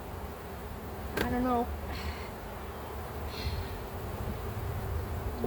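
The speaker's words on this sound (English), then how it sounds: "Very carefully because there's a billion bees here." Honey bees swarm densely around an open beehive, a continuous close buzzing drone throughout, with a person briefly speaking over it.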